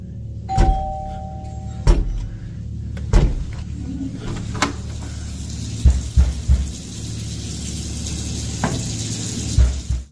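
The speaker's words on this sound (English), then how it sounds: "The door closes on its own" A door closes by itself, giving a series of knocks and thuds spread over several seconds above a low background hum. No voices are heard.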